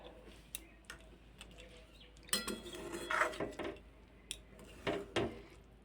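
Spiced potato and pointed gourd curry stirred in a pan, with scattered metallic clinks and scrapes of a spoon against the pan, close but quiet, in irregular bursts.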